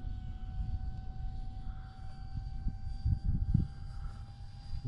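A 560 mm F-86 Sabre RC model jet flies on a maiden test flight at reduced throttle, with a steady engine whine and hum throughout, some rumbling louder bursts around the middle, and no talking.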